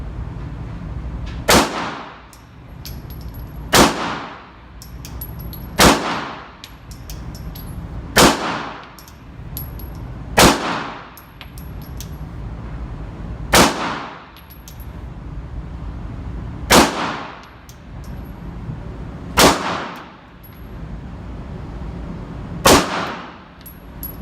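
A Glock 19 pistol fires at a shooting range in single shots spaced about two seconds apart, about ten sharp loud cracks, each with a ringing tail and no talk between them.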